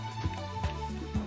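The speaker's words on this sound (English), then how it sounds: "what you're hearing right now is the level theme for the Dream Forest" The Dream Forest level theme from the 1995 PC game Rayman: a melodic electronic tune with a sustained lead line over a steady bass and a soft beat that pulses about every half second.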